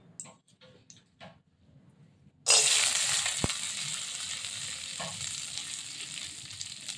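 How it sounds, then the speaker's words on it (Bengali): Cashews fry in a little ghee in a wok after a quiet start with light handling noises; a loud, steady sizzle bursts in and keeps going, with a sharp tick from a utensil partway through. "কড়াইতে অল্প একটু গাওয়া ঘি দিয়ে ধুয়ে রাখা কাজুগুলো ভেজে নেব।"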